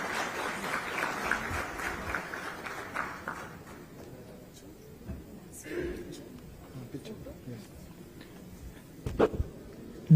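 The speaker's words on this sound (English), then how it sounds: "A big round of applause, please." An audience at a CII conference with a state minister on the dais gives a round of applause that is loud at first and then fades, with a host speaking over it.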